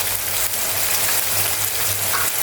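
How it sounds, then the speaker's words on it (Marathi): Spice masala sautéing with turmeric in a pan for egg kheema, a loud, dense, continuous sizzle up close with stirring noises and a low hum beneath. "आता आपले मसाले सुद्धा छान परतून झाले आता आपण हळद घालणार आहोत"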